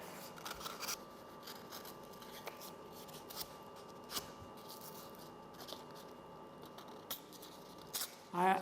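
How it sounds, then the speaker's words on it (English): A folded sheet of sandpaper being cut or torn during fabrication work makes faint, scattered scratchy ticks over a quiet background, ending in a louder ripping burst. "Just fold it and it very easily cuts there."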